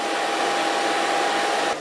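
A hair dryer fitted with a diffuser drying curly permed hair blows as a loud, steady whooshing roar with a constant motor whine, close by and unbroken until it cuts off at the very end, with no talking.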